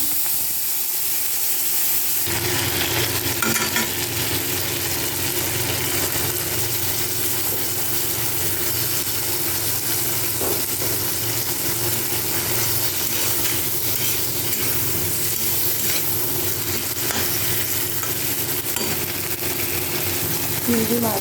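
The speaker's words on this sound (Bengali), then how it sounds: "চিংড়ি মাছগুলোকে ভালো করে ভেজে নেব" Prawns rubbed with salt and turmeric fry in hot oil, a steady loud sizzle and hiss that swells after the first two seconds and runs continuously, with occasional stirring scrapes and faint background talk.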